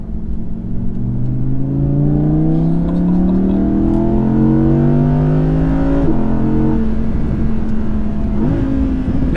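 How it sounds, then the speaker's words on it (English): An Audi R8 V10 Performance engine howls through rising revs on twisty roads, loud and close, climbing steadily with brief dips at gear changes before pulling again. "it would be rude not to take the R8 out for a quick spin around these incredible twisty roads"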